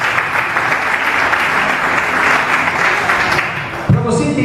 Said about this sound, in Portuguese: Eu aplaudi o seu pai.